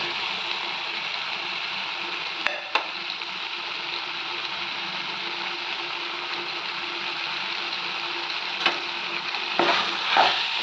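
A spoon stirs mashed potato through a simmering, sizzling masala pan, with a steady bubbling hiss throughout and a few sharp scrapes and clinks against the pot.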